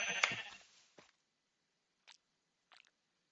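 Sheep bleating in Hungry World, a Minecraft-style Web3 game: one louder bleat at the start, then three short, faint cries spaced apart, with a brief soft chewing or biting sound among them.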